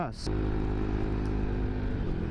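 A bored-up ADV scooter engine, tuned to about 17 horsepower, runs close by with a steady, throaty drone after a brief quiet start, holding an even, continuous pitch.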